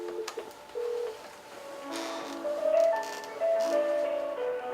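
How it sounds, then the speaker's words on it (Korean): A sequence of telephone dialing tones and call-connection beeps as a phone call is placed, steady electronic tones stepping between pitches with a faint background hum, no talking. "지민이 아빠 한번 제가 연결을 제가 아니라 김윤 씨가 연결을 한번 또 해보도록 하겠습니다"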